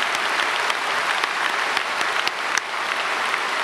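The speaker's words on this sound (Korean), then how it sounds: "우리 학생들, 우리 축복의 박수 보내겠습니다." A church congregation at a special dawn prayer service claps steadily for students, with dense, sustained applause filling the hall at a fairly loud level throughout.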